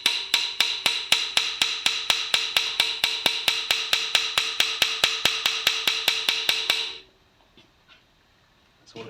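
A small hammer taps a tiny flat chisel to upset an inlay channel in a forged knife, about thirty sharp, evenly spaced ringing strikes close up over seven seconds, then quiet.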